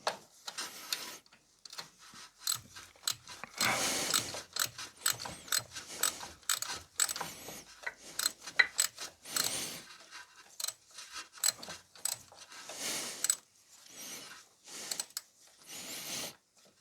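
A ratchet clicking in short bursts while a mounting bolt is tightened on a David Brown 990 tractor, close and fairly soft, with metallic clanks and pauses between strokes.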